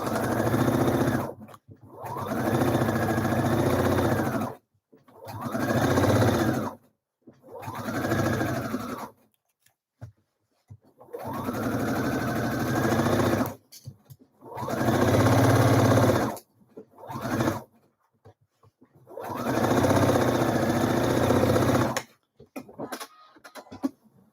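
A sewing machine stitches blouse yokes to a back piece in repeated bursts of a few seconds each, with short quiet pauses between runs, close and clear.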